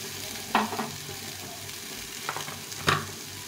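Mixed vegetables for a pumpkin ghonto fry in a pan with a steady low sizzle, punctuated by a few distinct spatula scrapes and stirs.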